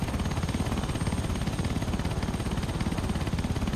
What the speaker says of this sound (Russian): Какая громкая вертушка.